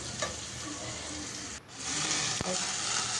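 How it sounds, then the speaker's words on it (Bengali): Onions fry in a pan in a loud, continuous sizzle that briefly dips and then resumes, close and steady throughout. "এখন তো পেঁয়াজ দিয়ে পেঁয়াজটাও ভেজে নিচ্ছি।"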